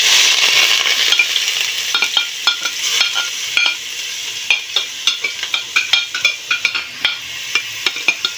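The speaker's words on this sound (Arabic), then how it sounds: "جبت معلقه سمنه كبيره، والحله سخنه قوي. هنزل بالبصله الكبيره" Onion hits hot ghee in a very hot pot with a loud, bright sizzle that settles slightly, then a spoon taps and stirs in quick repeated strokes near the mic.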